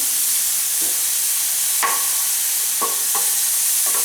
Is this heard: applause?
no